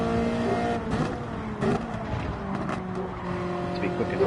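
A car in Gran Turismo 7 skids through a corner on warming tyres. Short tyre squeals and skids rise over a loud, revving race engine, and a voice talks over the driving.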